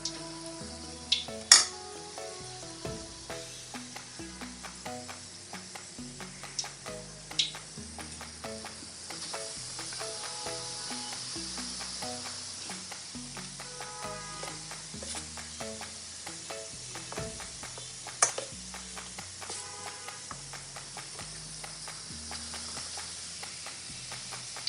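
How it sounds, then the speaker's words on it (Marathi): Vada fritters fry in hot oil, a steady close sizzle running throughout, broken by occasional clinks and stirring scrapes of a utensil against the pan. "हे सोडून आपण तेलामध्ये तळून घेऊया चांगलं"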